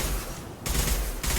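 Gunfire in the Mass Effect 2 video game rattles out in loud, dense bursts, briefly easing before the fire resumes.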